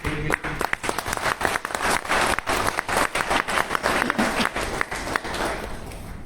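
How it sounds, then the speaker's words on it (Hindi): An audience at a company gathering claps heartily for a long-serving colleague, a lively burst of applause with distinct individual claps standing out near the listener. "एक बार जोरदार ताली"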